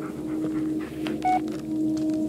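Keypad tones from a phone being dialed in the Blair Witch horror video game, a few brief beeps over a low steady background hum, fairly close and alone without talking.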